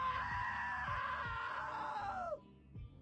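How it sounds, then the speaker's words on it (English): A single long, loud scream is held steadily and then drops in pitch as it cuts off, followed by a faint low thump. "Now that was a great scream."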